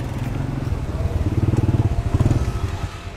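A 2003 Suzuki Viva motorcycle engine is started nearby. After a brief rough crank it catches into a rapid, throbbing idle with a pulsing low putter, then settles slightly toward the end.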